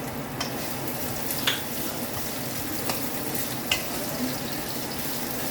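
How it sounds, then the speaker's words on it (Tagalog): Ginger sautés in a pan with a steady, moderate sizzle and hiss. A few light clicks of stirring sound over it, with no talking. "Gisa-gisa lang yung luya."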